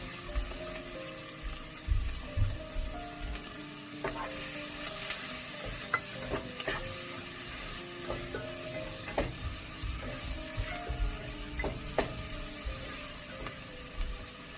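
Finely chopped tomato sizzling and being stirred in a hot pan over a gas flame while making cheese pasta, a steady close frying hiss with scraping and clinks of the spoon throughout.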